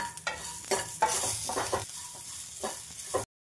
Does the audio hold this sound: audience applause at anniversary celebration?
no